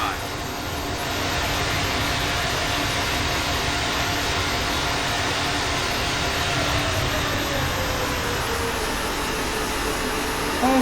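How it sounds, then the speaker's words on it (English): A JetBlue ERJ 190 in Microsoft Flight Simulator runs its thrust reversers after landing, a loud, steady jet roar with a broad whine. It holds close and continuous throughout with no talking over it. "Get those reverses on."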